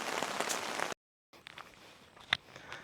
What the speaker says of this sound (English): It wouldn't be one of our trips if it wasn't raining